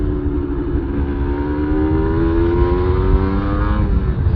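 A Yamaha TDR 125 motorcycle rides along at a steady pace, its engine a loud continuous buzzing hum with a gently rising pitch, heard up close with wind-like rumble and no speech.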